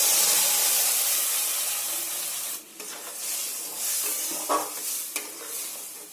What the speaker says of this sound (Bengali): এবার ব্লেন্ড করে রাখা কাঁঠালের বীজগুলো এতে দিয়ে দেব।